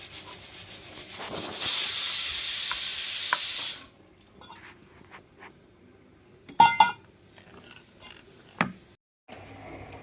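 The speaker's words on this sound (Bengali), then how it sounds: "কড়াটা গরম হয়ে গেছে, এবার আমি তেল দিয়ে দিলাম।" Hot oil poured into a heated wok bursts into a loud, steady sizzle that lasts a few seconds and then cuts off, followed by faint clatter and a couple of sharp knocks in a quiet home kitchen.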